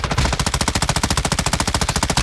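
A stolen M13 rifle fires in a video game in one rapid, sustained full-auto burst of about twenty-five evenly spaced, loud, close shots.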